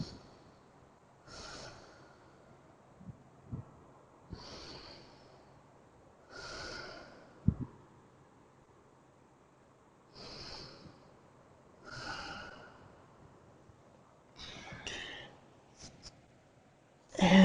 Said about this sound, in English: Few deep breaths.